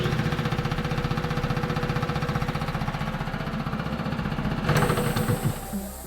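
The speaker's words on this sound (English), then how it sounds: "I have yet to fire up the air compressor and fill up our system." An air compressor runs steadily for a sandblaster air system, chugging with a rhythmic mechanical pulse at close range, joined by a brief hiss of air near the end.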